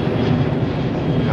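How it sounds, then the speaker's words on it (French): A steady, loud airplane engine roar holds an even drone throughout, broadband and constant with no pauses or voices. "On va se prendre un avion."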